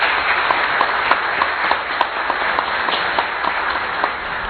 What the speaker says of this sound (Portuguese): Vossa Excelência é digno de todos os nossos aplausos.